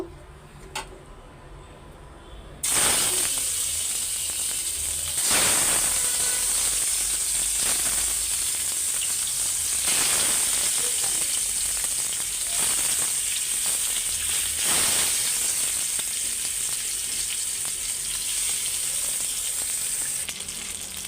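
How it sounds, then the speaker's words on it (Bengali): Spice-marinated fish fries in hot oil with a loud, steady sizzle that jumps up sharply a few seconds in and keeps crackling, with occasional bursts as pieces are moved. "মাছগুলো কড়া করে ভাইজা নিছি"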